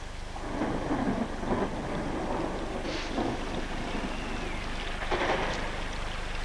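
Steady rainfall with rolling thunder outdoors, a constant wash of rain broken by several low rumbles and claps of thunder, no voices.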